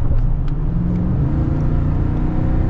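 A used Toyota Tundra V8 pickup truck engine with a six-speed transmission revs steadily. The low, loud rumble is continuous and close, with no voices over it.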